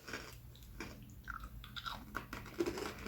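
Close, quiet chewing of crunchy little Italian almond cookies, with irregular crisp crunches and bites through a soft mouthy background.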